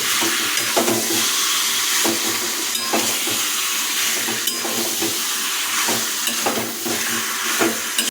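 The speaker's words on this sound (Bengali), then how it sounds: "কাঁচা লঙ্কা যোগ করার পর অনেকক্ষণ ধরে কষানো হয়ে গেছে" Chicken with green chili paste being stir-fried in a wok for spinach chicken, with a steady loud sizzle and repeated scraping strokes of a spatula across the pan.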